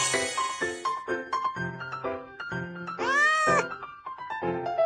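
A cartoon cat meows loudly in a children's hearing test, one drawn-out rising meow heard over a bouncy musical backing with playful sung tones.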